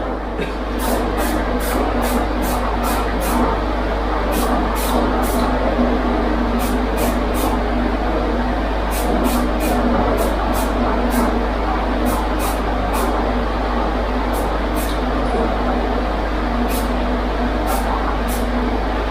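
An aerosol spray paint can lays down a light first coat in a steady series of short, sharp hissing bursts, repeated in quick clusters over a constant low background hum.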